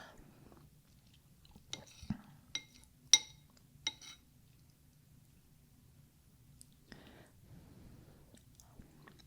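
Metal utensils clink against a bowl of noodle soup in a quiet close setting, several sharp taps clustered early, with soft chewing and slurping between and faint low background hum.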